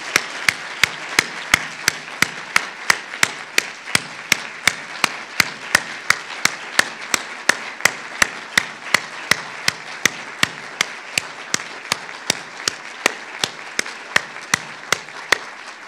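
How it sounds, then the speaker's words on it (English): Steady audience applause at a Phi Beta Kappa installation ceremony in an auditorium, a continuous dense wash of clapping punctuated by sharp, evenly spaced louder claps that keep an almost regular beat for about sixteen seconds. "I'd like to ask for a round of applause in recognition of her efforts"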